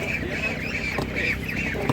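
Mulard ducks and geese at a Ukrainian animal market give repeated nasal quacks and honks close by, over a busy murmur of the crowd and a person talking.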